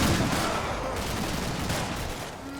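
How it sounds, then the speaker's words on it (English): Machine gun fire in the Combat Mission: Black Sea war game, a dense, continuous rattle of rapid shots with a cluttered battlefield wash behind it, fairly faint and distant. "The squad leader is hit by Ukrainian machine gun fire."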